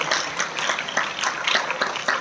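An audience at a school event claps to welcome a guest, a brief, even burst of applause with dense, rhythmic hand claps throughout.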